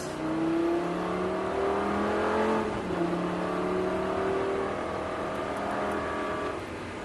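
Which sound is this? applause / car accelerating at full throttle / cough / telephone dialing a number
car accelerating at full throttle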